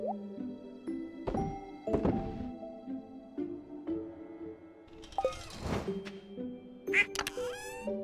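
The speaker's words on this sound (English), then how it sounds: "the duck sounds so cute" Small cartoonish duck quacks from the video game Stardew Valley, a few short honks scattered among soft thunks and plops of farm activity, moderately loud and close.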